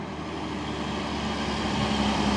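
Long Fuso Super Great truck on a Sumatran road, a steady low engine and road rumble with a faint tonal hum, moderately quiet and continuous, no speech.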